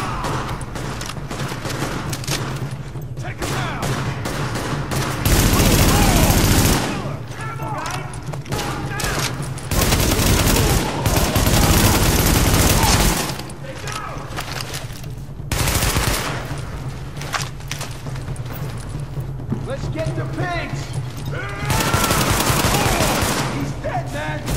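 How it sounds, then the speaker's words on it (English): Heavy gunfire from a rooftop position in The Division, sustained automatic volleys rolling on continuously with louder surges every few seconds, under a dense mix of in-game voices and combat noise. "Party's taking heavy fire from the roof."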